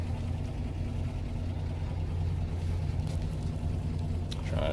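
A 1978 Toyota Land Cruiser inline-six idles close by, giving a steady low rumbling drone with a constant even loudness throughout and no voices.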